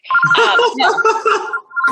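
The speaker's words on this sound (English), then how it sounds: "I'm happy that your phone's ringing." A telephone rings during an indoor interview, a repeated electronic trill with steady two-tone pulses sounding close and loud across the whole two seconds, with no talk over it.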